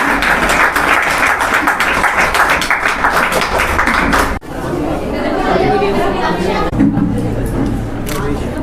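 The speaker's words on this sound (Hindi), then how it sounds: "एक बार खड़े होकर इन सबके लिए तालियां" Loud, dense clapping from students standing to applaud their teachers at a school event in Uttarakhand, steady for several seconds with crowd chatter mixed in, then shifting into murmuring voices.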